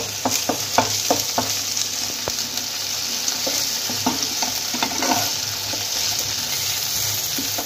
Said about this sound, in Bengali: আমি আদা বাটাটাও দিয়ে দেবো। এবার এটাকে এর সঙ্গে ভালো করে কষে নেব।